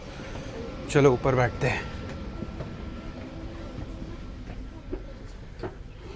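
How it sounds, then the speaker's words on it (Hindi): Train at a station in Monaco, heard as a low rumble and hum under a brief stretch of nearby talking, with faint clacks and knocks continuing afterward. "देखो यहाँ पे ट्रेन भी दिखा लेते हैं आपको।"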